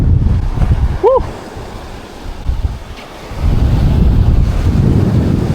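Strong, gusty wind roaring and buffeting the microphone beside the Swan River in Perth, loud and continuous with surging swells, plus a brief whistle-like tone near the start.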